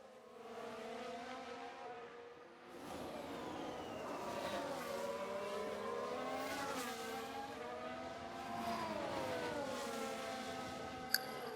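F1 race cars lapping Imola in the F1 Manager 2022 video game, engines whining and shifting pitch as they pass, a steady loud mechanical drone with rising and falling tones and a brief sharp click near the end.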